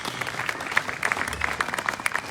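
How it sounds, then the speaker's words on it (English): Steady audience applause at a women's sustainability gathering, a dense even patter of many hands clapping at moderate distance, continuous throughout with no talking over it. "give a round of applause for this"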